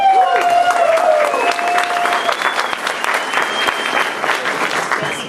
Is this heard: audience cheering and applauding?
yes